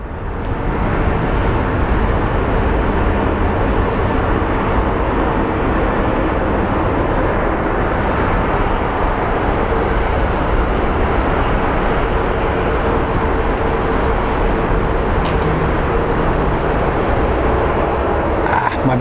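Southwest Airlines jet at Phoenix Sky Harbor airport, a steady broadband engine roar that holds loud and constant for the whole stretch, close by and with no other sound above it.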